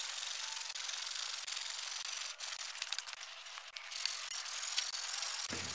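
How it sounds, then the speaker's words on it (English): A wire brush scrubbed hard back and forth across a log timber rafter during a dovetail log cabin build, a close, continuous raspy scratching with brief strokes and pauses, heard alone. "I really bear down with that wire brush"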